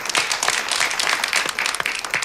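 Studio audience at a television entertainment show applauding, dense steady clapping that fills the whole stretch at a lively, fairly loud level with no talk over it.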